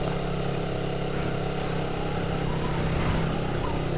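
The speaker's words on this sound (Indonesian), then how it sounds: "Pagi ini anginnya kenceng banget" Strong morning wind buffets the microphone while riding, producing a loud, continuous low roar and rumble that stays steady throughout with no voices.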